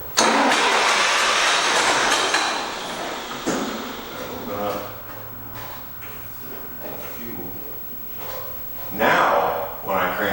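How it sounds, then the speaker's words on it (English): A 1947 John Deere B tractor engine, its wet cooling system just flushed, cranks and runs in a loud, rough mechanical churn that eases and then surges again, with someone talking over it. "So now, when we crank on it, even though that's wet,"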